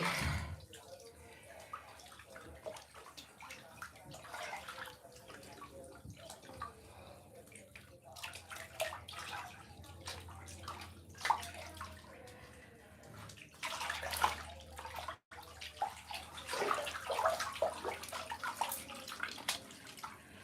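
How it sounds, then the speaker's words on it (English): Water runs steadily from a tap while dishes are washed up in a home kitchen, with splashes, drips and clinks throughout and a voice talking over it at times. "Yeah, I'm just washing up now."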